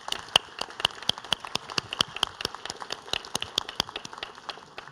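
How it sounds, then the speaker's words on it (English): Applause from an audience at an academic excellence award ceremony: a thin, steady patter of hand claps with sharp individual slaps, moderately distant and fairly quiet, with no talking over it. "Let us acknowledge their dedication and talent with a round of applause."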